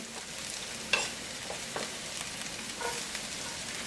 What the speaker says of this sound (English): to that, medium heat, we're going to go in with the onion